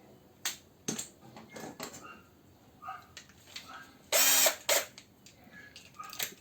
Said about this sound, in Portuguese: Primeiro, a gente vai trocar aqui a broca.